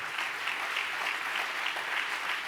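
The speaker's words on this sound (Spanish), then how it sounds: "Dale un fuerte aplauso a Jesús." A church congregation applauds steadily, a dense, continuous wash of clapping from many hands that holds evenly throughout.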